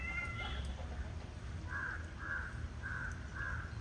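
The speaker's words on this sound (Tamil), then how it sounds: "குட்டி பூனையும்" A kitten meowing: one thin call early on, then four short, high, evenly spaced mews over a steady low background hum, faint and at a little distance.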